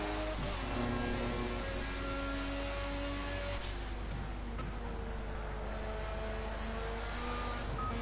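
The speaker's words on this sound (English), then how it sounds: "Next lot of traffic just going into Pouhon" Race cars in traffic heading into the Pouhon corner, engines droning steadily with layered harmonic tones and no talk over them.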